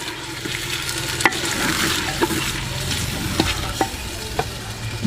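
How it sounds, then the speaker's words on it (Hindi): Pieces of mutton frying in a hot pan for haleem, stirred with a spoon: a steady close sizzle with scattered sharp scrapes and clinks of the spoon against the pan. "यहाँ पे मटन को अच्छी तरह भून लेना है।"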